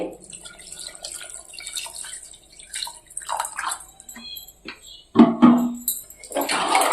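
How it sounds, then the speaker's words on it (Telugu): Water poured into a pot of Rayalaseema-style mutton curry masala gives quiet, intermittent dripping and splashing, then a louder, fuller pour near the end. "ఇప్పుడు వచ్చేసి ఇందులో సరిపడినంత వాటర్ పోయాలి"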